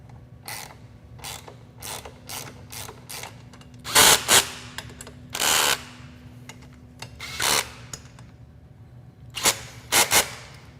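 Power tool tightening the front axle pinch bolts on a Timbersled snowbike kit, sounding in loud ratcheting bursts of varying length separated by short pauses, close by over a low steady hum, with no talking.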